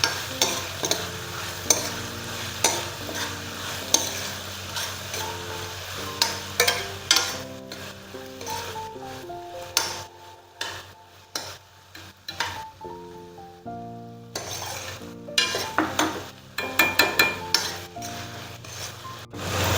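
Prawns frying in a pan for a Goan ash gourd and prawn caldine, steady sizzling under frequent spoon scrapes and metallic clinks against the pan, close and fairly loud.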